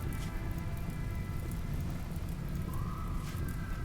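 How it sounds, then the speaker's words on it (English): Steady rain pours in the video game Rimworld, a dense continuous patter over a low rumbling wash, with a few faint tonal game sounds layered on top. "the rain will put it out on the walls"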